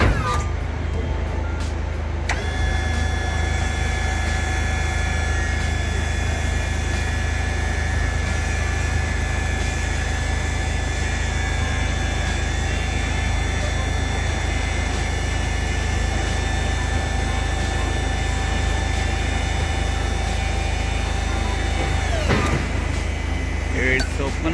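Hydraulic power pack motor driving a truck tailgate, with a loud steady whining hum that starts a couple of seconds in, holds level for about twenty seconds, then cuts off abruptly.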